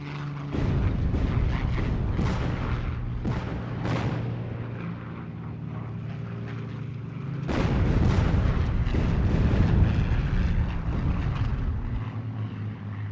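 WWII bombers and artillery over the town of Cassino, a dense rumble of aircraft engines broken by repeated sharp booms and blasts, loud and continuous with clustered explosions throughout.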